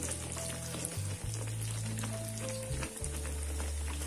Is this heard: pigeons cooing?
no